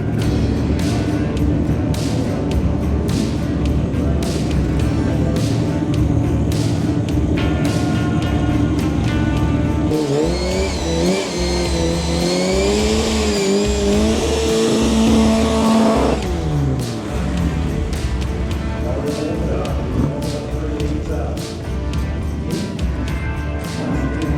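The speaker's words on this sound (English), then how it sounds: "Oh, I'll do a burnout." A car doing a burnout at the Santa Pod drag strip: loud revving engine with rising and falling pitch sweeps and a screeching tyre burst in the middle, over steady idle and crowd-side rumble.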